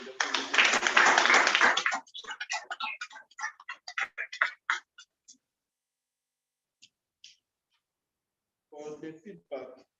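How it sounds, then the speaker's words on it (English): A short burst of group clapping at a Toastmasters club meeting rings out, then thins into scattered claps and dies away; a few voices murmur near the end. "I would like everybody to also clap."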